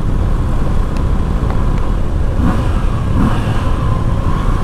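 A Moto Guzzi V85 TT motorcycle engine drones loudly and steadily in a tunnel, its deep rumble filling the space with a constant, slightly echoing roar.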